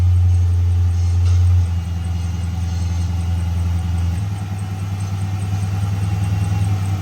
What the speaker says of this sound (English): what sounds to be like a squeaky belt issue